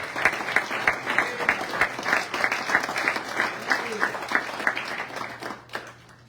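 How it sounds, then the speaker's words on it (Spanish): A church congregation applauds in a lively, rhythmic clapping that runs steadily for several seconds before trailing off, with faint voices mixed in. "Apláudale al Señor, por favor"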